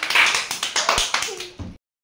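Several bursts of children's clapping in a classroom multiplication-table contest, a quick run of sharp claps that fades out, with speech-like noise mixed in.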